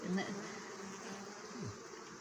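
Honeybees buzz steadily around a beehive, a dense continuous drone near the microphone with individual bees passing close now and then.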